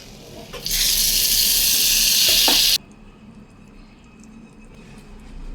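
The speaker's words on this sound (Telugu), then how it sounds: "సో పోపు అయితే వేస్తున్నానండి చట్నీకి ఇవి బాగా వేగాక" Mustard seeds and other tempering spices sizzle loudly in hot oil for a peanut and fresh coconut chutney, a steady bright hiss for about two seconds that cuts off abruptly, leaving a quiet room.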